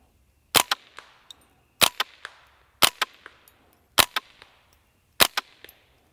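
Five sharp, loud rifle shots from a KRISS DMK 22 fired at a 3-inch steel plate at 100 yards, spaced about a second apart, each followed by a quick metallic ping and short echoes.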